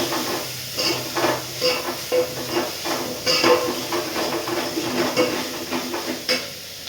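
Cumin seeds sizzle and crackle in hot oil for a horse gram sambar, a steady hiss with light popping bursts and occasional stirring clinks, no talk.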